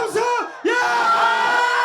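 A protest rally crowd lets out a loud, sustained collective shout, a brief rising yell followed by a longer full-throated roar of many voices at a healthcare groups' demonstration against a nursing bill.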